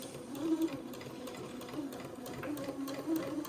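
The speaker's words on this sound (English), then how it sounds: "So I'll just sew along the seam," A domestic sewing machine stitches along a fabric seam at close range, a steady quiet mechanical whir and rapid needle patter running without pause, no talking over it.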